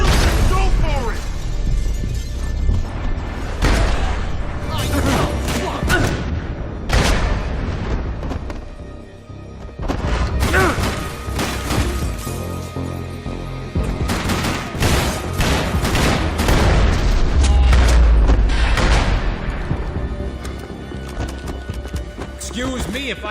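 Gunfire and explosions in the video game Max Payne 3, with loud bursts of shots and booming blasts coming in clusters over a continuous rumble, while characters shout over the action.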